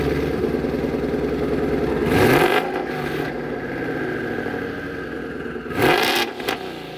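Stock exhaust of a 2019 twin-turbo Mustang GT revving, a steady mid-pitched burble rising into two loud throttle blips with sharp crackling peaks, close up and with no talking.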